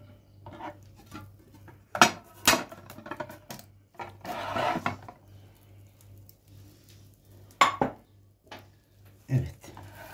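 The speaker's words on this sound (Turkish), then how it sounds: "Şimdi bunu tabağımıza alalım." Utensils clatter and scrape against a plate in several sharp bursts as fried egg and potato are moved onto it, with quieter scraping in between and a low steady hum underneath.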